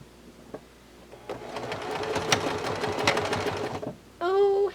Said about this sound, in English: Time to sew it.